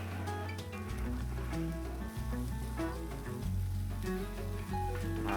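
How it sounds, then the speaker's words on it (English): Pasta with cream sizzles against the hot side of a wok, a faint, steady crackle and hiss that runs for several seconds with small uneven pops. "I always like to add it to the side of the wok so it gets, you hear that sizzling."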